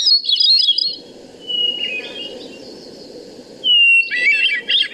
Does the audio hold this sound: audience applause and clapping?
no